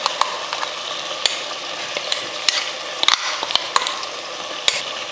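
Mutton being sautéed with freshly ground masala in a pan for mutton kulambu, a steady close sizzle with scattered sharp clicks and scrapes from stirring, no voices.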